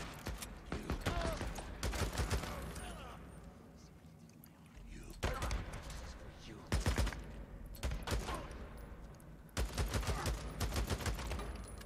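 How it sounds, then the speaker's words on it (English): Bursts of enemy gunfire in the Days Gone video game at Diamond Lake, several rapid volleys separated by quieter gaps, mixed with engine and movement noise and a voice speaking. "this guy was not meant to shoot at me there"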